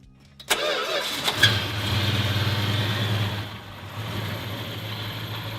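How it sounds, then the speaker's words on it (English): A 1960s Australian car's 273 cubic inch small-block V8, borrowed from Plymouth and Dodge, cranks briefly, catches and settles into a loud, rumbling idle close by, with no talking. "Under that formal, flat bonnet was a gift from the States, the 273 cubic inch V8, a small block engine with bite."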